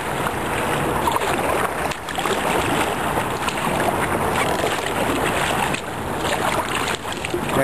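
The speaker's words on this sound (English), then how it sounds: "Now we're in the waves and turbulence" A kayak pushes through turbulent waves and churning water beneath a river bridge, with continuous splashing, wash and gusting wind noise on the microphone, a few sharper dips where paddle strokes break the steady rush.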